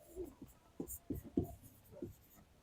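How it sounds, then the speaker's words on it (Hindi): Pen scratching out a trigonometry solution on paper, a run of short close strokes in uneven bursts, faint and unaccompanied by talk. "अब हम लिखेंगे"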